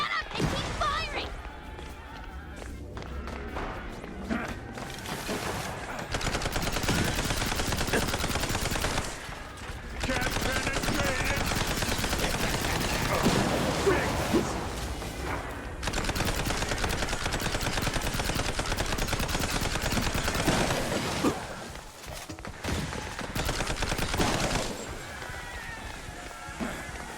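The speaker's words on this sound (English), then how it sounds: "Just shut up and keep firing!" Rapid machine-gun fire and single gunshots in the PC game Mouse: P.I. For Hire, sustained loud bursts broken by brief pauses, with occasional crashes and some voices over the shooting.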